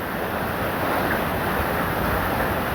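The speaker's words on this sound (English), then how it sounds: "This is the river." Floodwater rushes through a swollen river in a steady, loud, broadband roar that holds unbroken for the whole stretch, with a touch of wind noise and no talking.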